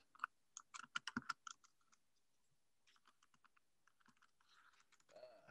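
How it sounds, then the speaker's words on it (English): Quiet keyboard typing: a quick burst of clicky keystrokes, then slower scattered taps trailing off, with a faint shuffle near the end. "Sorry, typing."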